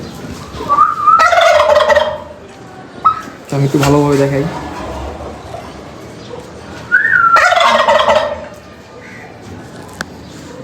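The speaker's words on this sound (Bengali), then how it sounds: "আর এখানে একটা টার্কি মুরগি আছে" A turkey on a farm with tiger chickens gobbles loudly and close in two rattling bursts, with a shorter call between them, while someone talks over part of it.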